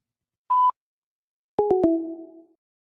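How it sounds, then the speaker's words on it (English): A voicemail system's recording tone sounds as a single short, clean electronic beep, followed by a few sharp clicks and a decaying tonal ring. "At the tone, please record your message."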